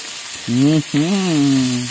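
Vegetables fry with a little dried fish (tuyo) in a pan, a steady sizzling hiss overlaid by two low, droning tonal sounds, close and fairly loud.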